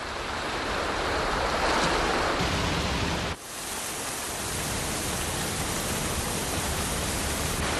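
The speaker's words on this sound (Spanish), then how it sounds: "El mar es bravo en estas costas solitarias" Rough surf pounds a lonely New Zealand beach strewn with driftwood, a loud, continuous roar of breaking waves with a brief dip partway through before the wash surges back, no voices present.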